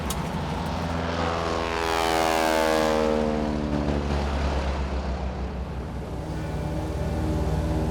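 A propeller airplane drones past close by, its engine note swelling loudly and sweeping down in pitch as it passes overhead, then settling into a steady hum, with no voices.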